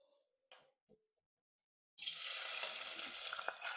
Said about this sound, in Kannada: ಈಗ ಈರುಳ್ಳಿ ಹಾಕೊಂಡ್ ಬಿಡೋಣ.